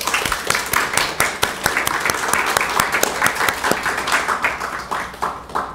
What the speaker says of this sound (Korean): 우리 박수로 우리 축복하겠습니다.